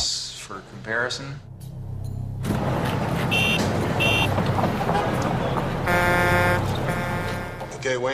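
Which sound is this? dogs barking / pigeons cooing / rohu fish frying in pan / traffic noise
traffic noise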